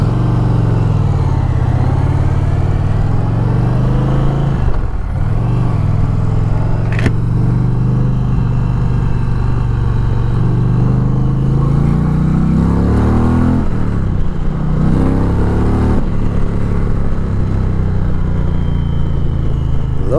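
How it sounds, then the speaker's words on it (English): Stock exhaust on an Indian Challenger motorcycle rumbles deep and throaty while riding, a steady loud engine drone with rising and falling revs and no talking. "Stock exhaust sounds nice and throaty."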